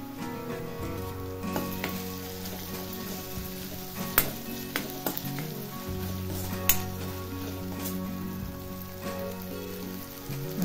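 Ginger garlic paste fries in a hot pan of crumbled paneer bhurji, a steady close sizzle with stirring scrapes and a couple of sharp utensil clicks, low background music underneath.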